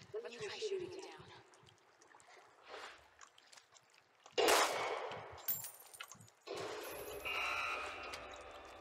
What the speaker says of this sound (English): Let me try shooting it down.